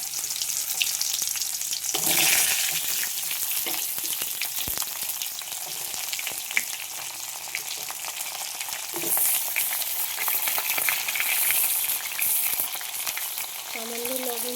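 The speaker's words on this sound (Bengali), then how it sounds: "পটলগুলো এখন হালকা করে ভেজে নেব।" Pointed gourd (potol) frying in white oil, a steady loud sizzle with occasional stirring scrapes throughout, no one talking.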